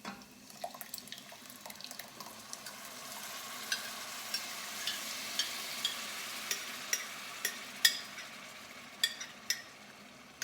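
Tomato sauce for bucatini all'Amatriciana hitting softened, translucent onions in a pan, giving a steady moderate sizzle with wet bubbling and a run of sharp scraping clicks from stirring, no talk.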